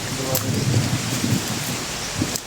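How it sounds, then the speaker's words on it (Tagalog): Steady rain falling outdoors in a dense, broadband hiss, with low rumbling thunder-like swells underneath, fairly close and loud. "Ulan na po yata."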